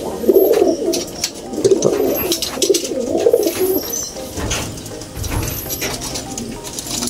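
Racing pigeons coo in soft, throaty bursts during north road training, the low warbling calls repeating close by amid light clinks and a brief spoken word.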